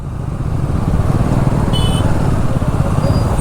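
Busy road traffic of motorcycles and cars in a long queue, including a Pulsar motorbike, heading to Pachad; a steady, dense engine rumble close by with a couple of faint horn-like tones.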